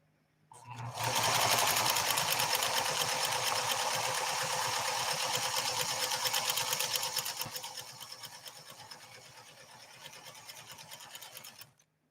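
A PFAFF 360 sewing machine sent in for repair stitches in one steady, loud continuous run that eases slightly in pace before stopping.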